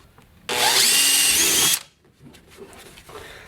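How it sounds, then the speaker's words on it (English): A power drill whines loudly for just over a second as it bores into a plastic kayak hull, then cuts off, leaving quiet room noise. "Place the drill on top of the second star."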